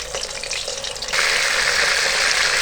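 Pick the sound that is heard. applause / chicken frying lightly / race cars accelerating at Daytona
chicken frying lightly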